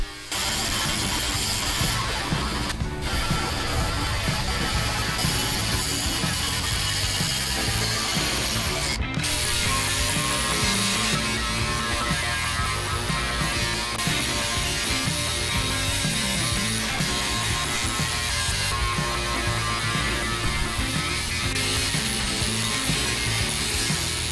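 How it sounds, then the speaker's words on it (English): Continuous loud rasping and scraping of sanding on a car surface, steady and close with a rough mechanical texture throughout. "I give you Bill sanding my car."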